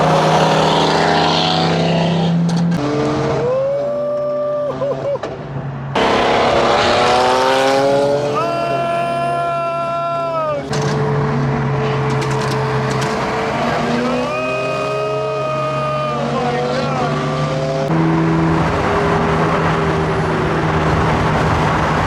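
A car driving on a canyon road toward Malibu with the windows down, engine rising and falling through gear changes as wind rushes steadily through the cabin, loud and close, with a voice talking now and then over it.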